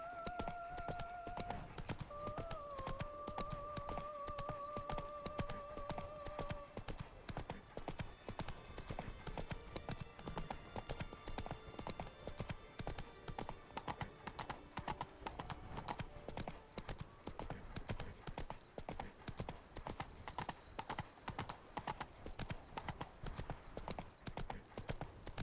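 Steady clip-clopping of a horse's hooves under a rider in a Witcher game, rhythmic and continuous throughout, with a brief whinny-like tone near the start.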